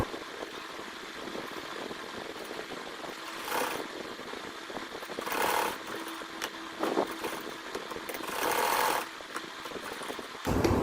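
A sewing machine stitches a fabric face mask with a faint, steady mechanical whir, swelling in louder bursts several times as it runs, heard alone at moderate distance.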